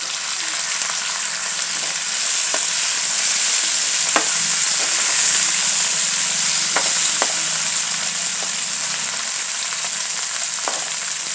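Chopped tomatoes sizzle steadily in a hot oil tempering for a homestyle dal methi, a loud continuous fry broken by occasional sharp clicks of a spoon stirring the pan.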